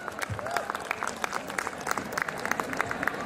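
Audience at a college fresher's welcome applauding a Bollywood mashup performance, continuous clapping with scattered sharp claps, fairly faint and distant.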